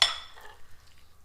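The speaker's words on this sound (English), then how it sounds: "just give it a good stir" A Polish cabbage and meat casserole stirred in a pot: a brief bright clink of a utensil against the pot followed by soft, faint scraping and shuffling of the contents, close and short.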